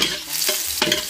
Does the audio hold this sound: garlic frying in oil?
yes